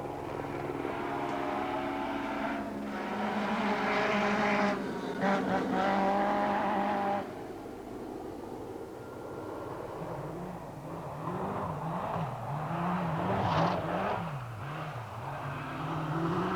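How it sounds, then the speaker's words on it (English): A Lancia rally car is driven hard on a rally stage at twilight during the 1984 Sanyo Rally in New Zealand, its engine revving and surging up and down at moderate distance over a continuous rumble. "And in 3rd place, Marco Hélène is driving his Lancia hard to keep in touch with the Audis"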